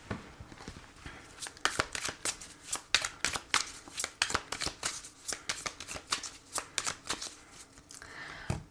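Tarot cards riffled and shuffled by hand in a steady run of crisp, rapid flutters, close and clear with no talking over it.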